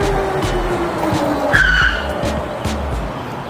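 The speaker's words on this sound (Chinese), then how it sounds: "然后紧急刹车哦。" A Warrior 60V electric motorcycle brakes hard from about 70 km/h, its tire giving a short, loud skidding squeal mid-clip over a low rumble of wind and road noise.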